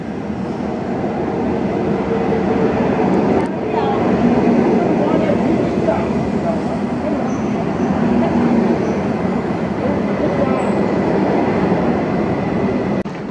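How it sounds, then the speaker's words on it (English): A loud, steady rumble of a train in a station in China with broad mechanical roar and faint tonal whines, continuing throughout. "Finally, train station again."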